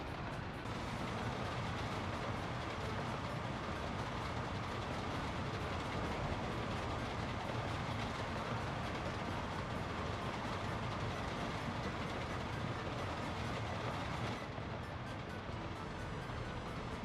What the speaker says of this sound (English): we now got the steel train running